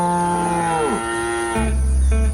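A single cow lets out a loud, close moo that bends downward in pitch, followed by a deeper, rougher lowing tail.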